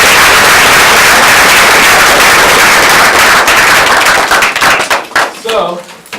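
Audience clapping and applause at a producers' event, a loud, dense crowd ovation that thins out into scattered claps and cheers toward the end.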